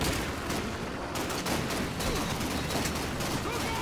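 Loud, continuous gunfire in the World War II shooter game Call of Duty 2 forms a dense, sustained barrage of shots and explosions with no clear gaps.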